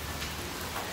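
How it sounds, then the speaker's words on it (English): Rain falling at a zoo in Copenhagen, heard from shelter under a tunnel: a steady, dense hiss of drops striking hard surfaces, continuous for the whole moment with no voices. "Look at the rain."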